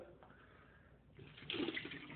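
A glass of ice water is poured over a person's head, a soft close splash that swells near the end, with no talking.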